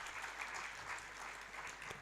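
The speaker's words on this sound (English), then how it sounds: "Clapping अच्छा है." Steady, dense applause fills an audience hall at a bank workers' union conference in Junagadh, even and sustained throughout with no talk over it.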